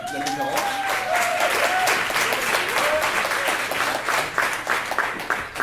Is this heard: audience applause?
yes